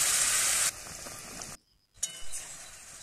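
Chalta pickle frying and simmering in a pan with molasses juice and sugar added, a steady loud sizzle that drops abruptly to near silence for a moment before the bubbling hiss resumes.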